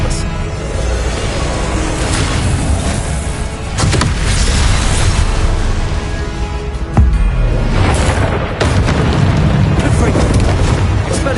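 Confringo spell blasts in Hogwarts Legacy, repeated booming bursts and whooshes layered over dense game noise, loud and busy throughout.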